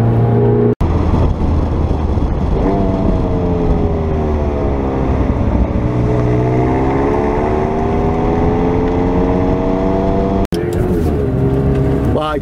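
McLaren 720S sports car engine revving hard through rising, stepped gear changes, with a sharp shift near the start and another near the end, loud and close, with people talking over it.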